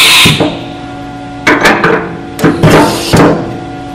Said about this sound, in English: Throwing the drill bit in.